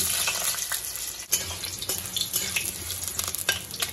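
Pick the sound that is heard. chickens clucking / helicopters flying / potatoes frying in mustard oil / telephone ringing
potatoes frying in mustard oil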